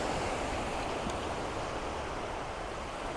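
Ocean waves coming in on a shore at sunrise, a constant broadband wash of surf at moderate distance, steady and unbroken with no voices.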